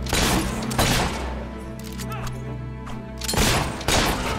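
Gunfire bursts in the video game Fable 3, loud and close, with rapid shots at the start and again near the end, and a droning tonal background in between.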